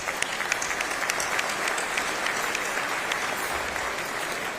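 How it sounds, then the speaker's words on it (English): Sustained audience applause fills a banquet hall at a city address event, dense and steady throughout with no voices over it. "Please give them all a round of applause."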